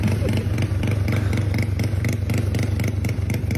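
Stripped-down motorcycle engine revving close by, a loud, rough, pulsing drone with rapid rhythmic firing that stays strong and steady throughout.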